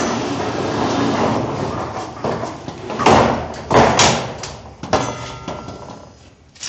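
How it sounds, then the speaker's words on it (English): A door is shut indoors, with several loud thuds and rattling knocks over a few seconds against a continuous noisy background, without speech. "let's close the door up"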